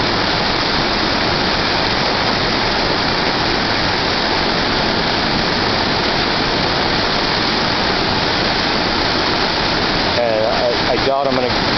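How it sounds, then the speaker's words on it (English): Hungarian Falls roars as a loud, dense, unbroken wash of falling water, close and steady throughout, with a voice faintly under it near the end. "During the summertime, you can actually get right behind this falls."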